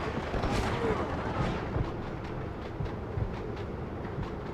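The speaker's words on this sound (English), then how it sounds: "we have to catch the train before it goes out" Train in the video game Red Dead Redemption, a steady rumbling roll with rhythmic clanking of the railroad cars and occasional sharp bangs, moderately loud, with a voice talking over it.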